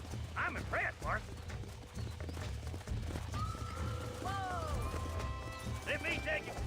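Horse hooves clip-clop steadily in the Red Dead Redemption video game, with a horse neighing and whinnying partway through, under people talking.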